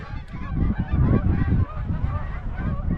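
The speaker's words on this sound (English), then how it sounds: "That's so cool to see geese just flying in formation like that." A large flock of geese flies in formation overhead above a remote desert creek, honking continuously in overlapping calls, loud and close with no talking.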